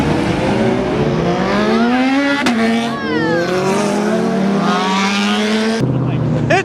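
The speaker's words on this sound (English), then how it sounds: "Yep, it's that swap motor." Homemade muscle car with a swapped engine revving hard at a cars and coffee meet, loud rising and falling engine pitch sweeping up through several pulls before cutting sharply near the end, with no voices.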